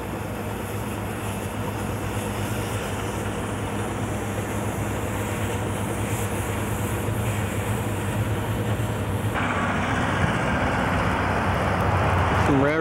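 A Fairbanks Morse diesel locomotive at a railroad site in Snoqualmie gives a loud, steady rumble with low engine drone, its character shifting partway through as the noise grows rougher.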